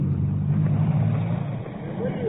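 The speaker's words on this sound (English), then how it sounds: "There it goes, and the cars move off." Cars pulling away from a traffic light on a wartime London street at night, a low engine rumble and traffic noise under a man's continuous radio-style commentary.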